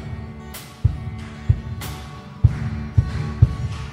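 Footsteps at a live concert event: heavy, dull thuds land about five times in four seconds at an uneven walking pace, standing out clearly over a low, humming room background.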